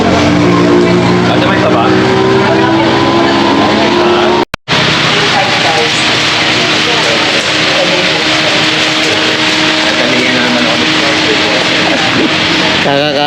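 An offroad vehicle on an overland trip, its engine and road noise a loud continuous roar broken by a brief dropout, with people talking over it.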